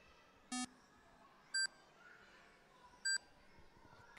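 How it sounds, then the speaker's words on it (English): Three short electronic lap timing beeps sound at uneven intervals as cars cross the line at a club race, clear and distinct over faint background noise; the first is lower in pitch than the other two. "the noise of the beep as the car goes across the line"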